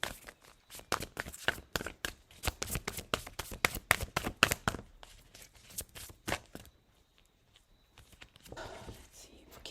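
Tarot cards being shuffled by hand, a series of quick crisp riffles and taps in irregular bursts up close, with a quiet pause and soft rustle toward the end.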